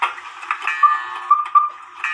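An antique cuckoo clock ticks steadily and evenly indoors, with sharp, clear tick-tock beats close up and no one speaking.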